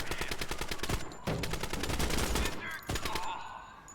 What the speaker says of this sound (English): Immediately suppressing with the machine gun.